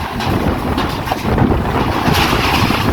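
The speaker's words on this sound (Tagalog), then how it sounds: "Malakas po ang hangin ngayon." Strong wind roars steadily into the microphone, a loud buffeting rumble with a faint watery wash underneath, no voices.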